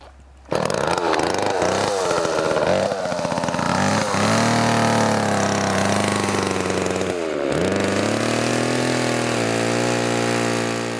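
Chainsaw cutting through about 3 inches of lake ice: the engine snarls loudly and close, revving up and holding a high, steady buzz with brief dips as the blade bites, no talk.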